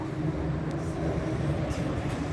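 A BTS Skytrain rumbles steadily at Udom Suk station in Bangkok, a constant low hum and roll with no voices.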